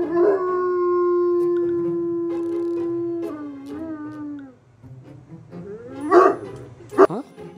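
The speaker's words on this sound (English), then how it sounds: "Who's done howling?" A dog gives a long, loud, wavering howl lasting several seconds, then a few shorter yips and whines close to the microphone.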